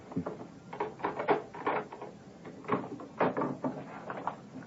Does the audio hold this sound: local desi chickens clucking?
no